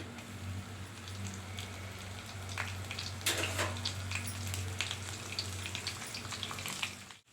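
Cumin, mustard seeds, chana dal and urad dal frying in hot oil, a steady close hiss of sizzling with a brief louder crackling burst midway, over a low background hum.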